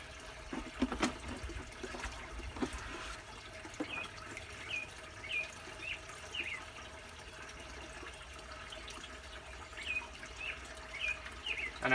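Water trickling and seeping through soil in a planted turtle pond, a faint, steady gurgling flow up close, with small bubbly chirps and occasional soft knocks and splashes.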